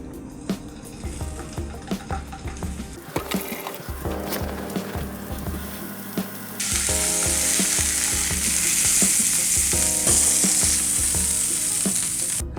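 Homemade stuffed and linked sausages fry in a pan with a steady sizzle and crackle, plus clicks and mechanical rattles near the start, and the sizzle grows louder and brighter partway through.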